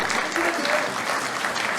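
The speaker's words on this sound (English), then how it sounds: "Let's give him a big, big round of applause." An audience at the India SME Excellence Awards applauds a company director receiving an award, a short, steady wash of many hands clapping with a faint voice briefly audible underneath.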